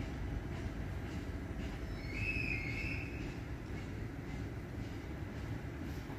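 A Siemens Vectron electric locomotive with an advertising livery runs past at a German station, a steady rumbling roll of wheels on rails with a brief high squeal partway through, heard from a moderate distance without talk.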